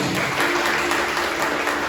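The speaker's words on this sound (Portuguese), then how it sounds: "Você pode aplaudir ao Senhor mais uma vez?" Steady applause from a church congregation fills the whole stretch, dense and even with no pauses, close and fairly loud.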